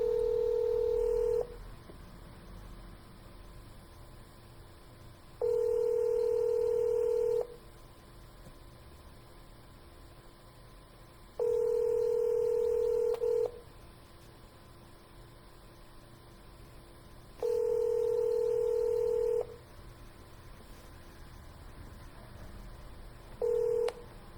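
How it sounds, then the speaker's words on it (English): A telephone line rings on a call to a multi-family real estate contact: a loud electronic tone sounds for about two seconds, then falls silent for several, repeating four times. "They hung up. I'm calling back."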